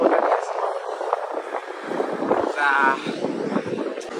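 Strong wind in the Mizo Hills buffets the microphone in loud, continuous roaring gusts, with a voice faintly audible underneath.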